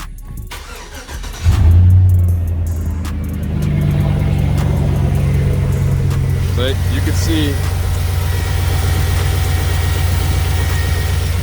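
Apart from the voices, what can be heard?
Chevrolet Silverado truck engine starting and idling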